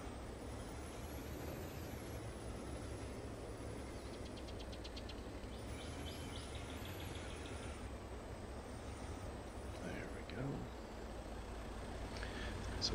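Truck reversing a Trail King double Schnabel trailer with a steerable dolly in Farming Simulator 22, a continuous low diesel engine drone with faint hissing air-brake bursts and light mechanical clatter, steady and moderately quiet.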